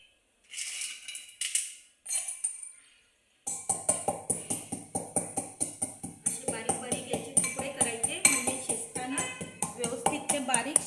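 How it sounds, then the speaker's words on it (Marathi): Vegetables for mungdya bhaji being chopped into small pieces with a knife on a board, a steady run of quick, close taps that starts after a short stretch with someone talking. "आता याला आपण पहिलं बारीक बारीक याचे तुकडे करून घेऊयात"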